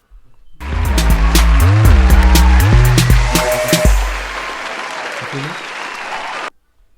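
A crowd claps and cheers loudly over a revving engine with tire squeals, the applause tapering off before cutting out.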